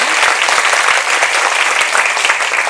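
Steady, dense applause from a seated audience at the opening ceremony of the 2023 Paju Future Education Forum, a continuous even wash of clapping throughout without a break.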